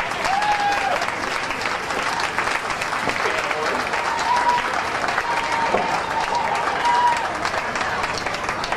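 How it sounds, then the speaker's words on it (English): Sustained applause from a large crowd at the Logan County Fair in Ohio during a fair queen and king event, dense steady clapping filling the whole stretch with some whistles and crowd noise mixed in. "let's just give them a round of applause"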